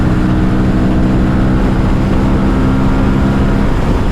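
An Aprilia Tuono 457 motorcycle pulls hard at full throttle through an overtake, its engine a loud, constant roar with wind rush that holds steady throughout, with no speech.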